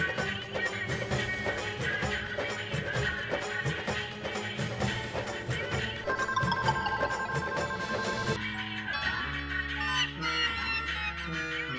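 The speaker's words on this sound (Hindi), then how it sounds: "वाघा का फोन?" A phone ringtone plays loudly and without pause, a busy melodic tune that shifts partway through its run, with no one talking over it.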